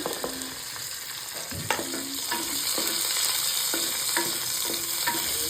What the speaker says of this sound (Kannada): ಈಗ ಈರುಳ್ಳಿ ಚೆನ್ನಾಗಿ ಫ್ರೈ ಆಗಬೇಕು.